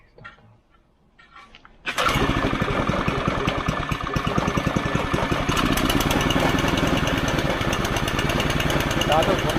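A cold Honda water pump engine is started after a quiet lead-in with a voice, catching abruptly and then running loud and steady with a dense, rapid firing rhythm close by, continuing without pause.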